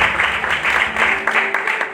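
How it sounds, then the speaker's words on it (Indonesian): A church congregation bursts into lively applause for Jesus, a dense, steady patter of many hands that stays fairly loud with a faint tonal hum beneath and tapers slightly at the end. "Tepuk tangan dong yang meriah bagi Tuhan Yesus."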